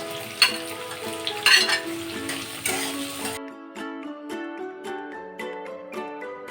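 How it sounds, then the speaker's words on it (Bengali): Beans, carrot, onion and capsicum for chicken chow mein sizzle loudly in a pan over a high gas flame, with sharp scraping stirs. The frying cuts out halfway, leaving a quiet tonal melody. "এবার গ্যাসের আঁচ হাইতে করে দু মিনিট সবজিগুলো ভেজে নেব"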